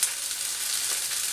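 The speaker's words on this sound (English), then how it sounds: "I'm just going to not move them until they're halfway done" Large shrimp sear undisturbed in a hot pan for pad Thai, giving a steady, close, even sizzle with a few brief spits and no talking.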